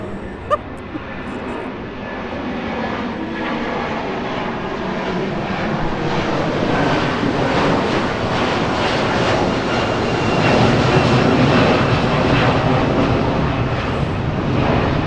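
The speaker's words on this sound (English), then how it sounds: "that's an airplane" A jet airliner passing overhead near a boat yard, its engine roar swelling steadily and staying loud, with people talking over it.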